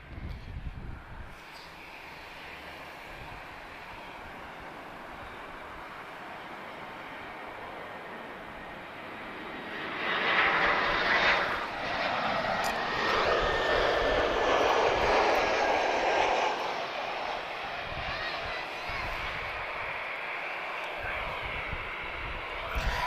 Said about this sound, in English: we've got one A330 Neo just about to go.